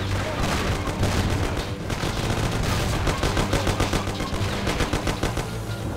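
Dense, continuous automatic gunfire in a Mafia video game shootout, with rapid overlapping bursts that stay loud and close throughout.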